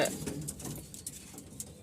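Soft, low pigeon cooing repeats through a busy ambient background, with faint rustling and no talking.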